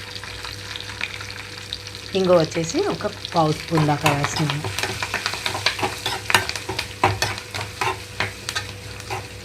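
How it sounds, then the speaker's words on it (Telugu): A tempering of turmeric and asafoetida for tamarind pulihora sizzles and fries in a pan while being stirred, a steady hiss with scraping clicks, and someone talks over it for a few seconds. "చూడండి, తాలింపు అంతా వేగిపోయింది"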